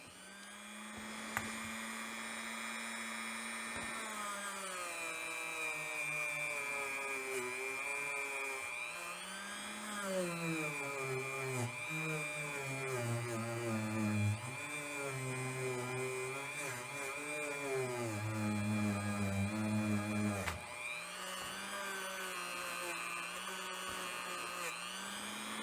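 A power tool whirs steadily while cleaning the piston of a Yamaha Zuma sport scooter, its motor pitch dipping and rising as it bears down on the metal, then settling back to a constant hum near the end.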